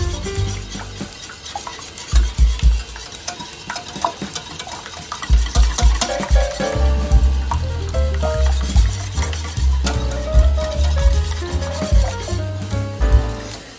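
Whisk scraping and tapping against a pot on the stove while lemon bar filling cooks, a continuous rhythmic stirring with light clattering and faint bubbling, close and alone.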